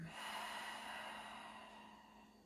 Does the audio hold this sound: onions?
no